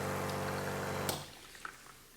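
A Rancilio Silvia Pro X espresso machine runs its backflush cleaning cycle, a steady pump hum and watery hiss that cuts off abruptly, leaving faint drips and gurgles.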